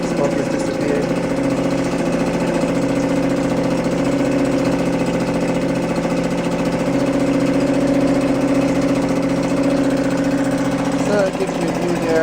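Suzuki 2.5 hp outboard motor from 2017 running steadily after the choke is turned off, a close continuous mid-pitched drone with someone talking over it.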